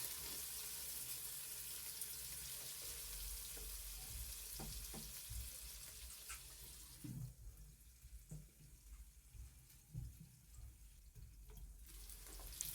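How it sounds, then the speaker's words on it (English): Beef with onions and garlic sizzles and fries in a pot during a home beef bean stew, a steady close hiss broken by a few stirring clunks and scrapes, softening after the pot is covered. "Mix your beef for a little bit, then cover it and let it cook for a few minutes"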